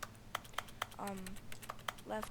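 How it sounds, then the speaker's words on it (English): Keyboard-typing clicks from a mouse click in The Stanley Parable video game: a series of sharp, close key taps spaced irregularly, with a voice talking in the middle. "it makes the typing keys noise"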